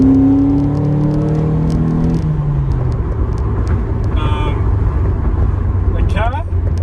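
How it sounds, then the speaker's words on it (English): A Toyota MR2 being driven on the road, its engine droning and rising in pitch before a gear change, then settling into a steady low hum with road noise, while someone inside talks over it. "here we are driving the MR2"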